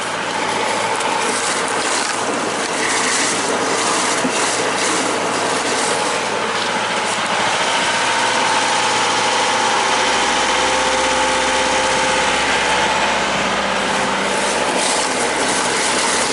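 The engine of a skipjack sailing boat runs steadily at full ahead, a loud, close, continuous mechanical drone with rattling vibration and no pauses, with no talking over it.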